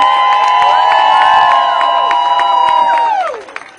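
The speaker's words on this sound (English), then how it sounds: "let's give another amazing round of applause to Cecilia Wong, the National Legal Director" An audience at an ACLU gathering cheers, whoops and claps for the organization's National Legal Director. The sound is loud and sustained, then tapers off near the end.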